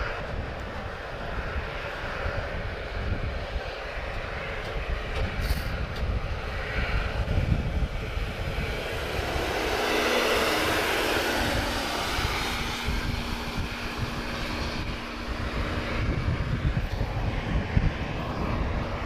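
A Boeing 737-800 departing Lisbon Airport for Paris Beauvais builds from a rumbling roll into a powerful, swelling jet roar that peaks mid-way, then settles into a sustained thunderous rumble with crackling low end and no voices.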